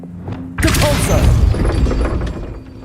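A sudden forceful blast from the Depulso spell in Hogwarts Legacy hits after a brief quiet start, followed by a crashing, rumbling scatter that slowly fades, with faint talk nearby.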